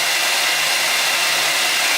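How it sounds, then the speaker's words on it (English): A Revlon 1875W hair blow dryer running on its turbo heat setting gives a steady, loud, even rush of airflow with no pauses, alone and close up. "and I get hot turbo heat. But those are the different levels on the blow dryer"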